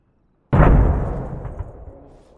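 A frag grenade blows up in ARMA Reforger: one sudden, loud, close blast with a deep boom that rumbles and fades over about two seconds, with no talk.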